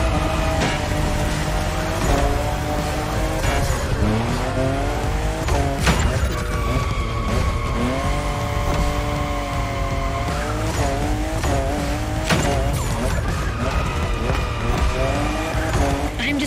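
A Toyota Supra drifting in The Crew Motorfest racing game, its engine droning loudly and steadily while tires squeal in long wavering screeches that rise and fall, with a brief voice underneath.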